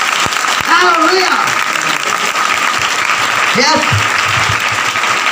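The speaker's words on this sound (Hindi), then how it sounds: "आइए जोर से ताली बजाएं।" A church congregation at a Sunday service claps loudly in a dense burst of applause, while a preacher speaks briefly over it and occasional vocal exclamations cut through.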